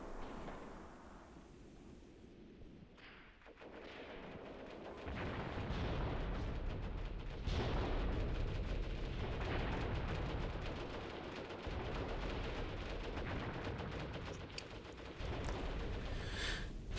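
An incoming artillery barrage in the war game Graviteam Tactics, with a series of heavy booming blasts rolling through continuous rumbling battle noise, loud and sustained with no talk.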